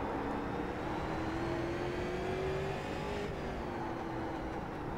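Street stock race cars run a quarter-mile oval at Charlotte, a continuous loud engine roar that rises and falls as cars pass lapped traffic, with no speech.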